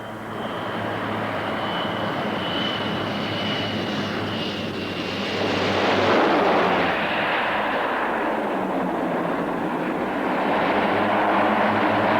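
A small plane lands at Lukla airfield in the Everest region, its engine a loud, steady broadband roar with a thin high whine that swells midway and stays heavy throughout.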